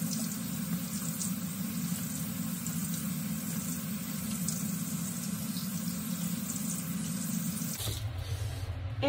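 Tap water runs steadily into a sink during face washing, a constant close splashing flow that changes character near the end as the stream shifts or stops.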